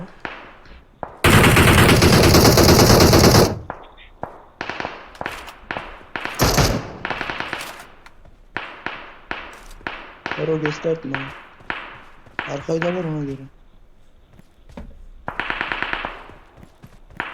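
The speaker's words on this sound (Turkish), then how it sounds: "Abi her yerimizden sıkıyorlar." Automatic gunfire in a multiplayer shooter video game, long sustained bursts and rapid rattling volleys alternating with single shots and pings, loud and close, while players talk over it.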